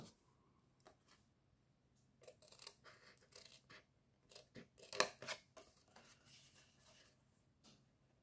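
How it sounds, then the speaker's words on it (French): Scissors snip through a strip of paper while a Christmas ball ornament is being made, a run of close, crisp cuts that cluster in the middle with a sharp louder snip, then tapers to quieter trimming. "on va prendre une paire de ciseaux"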